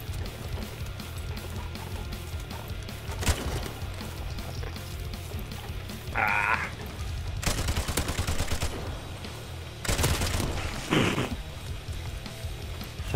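A lone shot pops early in a Modern Warfare gun game round, then two loud bursts of automatic fire follow, spaced a few seconds apart against a low steady background.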